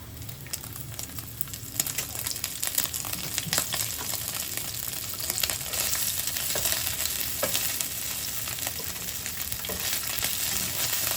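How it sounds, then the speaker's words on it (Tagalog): Garlic sautés in hot cooking oil in a pan, a steady dense sizzle with scraping stirs throughout, close and continuous with no voices over it. "Igisa lang natin yung bawang."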